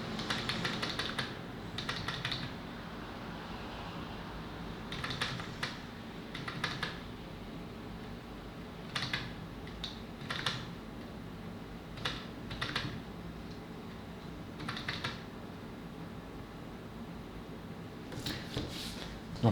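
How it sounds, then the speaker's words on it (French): A computer keyboard's Delete key is tapped again and again while entering an ASRock motherboard BIOS, giving quiet clusters of clicky keystrokes spread across a long stretch under faint room hum. "sur votre clavier, vous avez la touche ici, là, Supre. Vous appuyez dessus"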